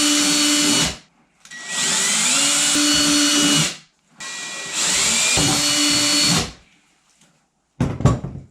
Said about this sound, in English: then I'll go and drill the holes out.